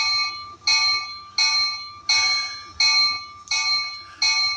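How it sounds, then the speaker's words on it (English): Williams toy train bell rung through a homemade controller, a bright metallic clang repeating in a steady rhythm of about seven strikes, close and clear with no speech. "And a Williams bell."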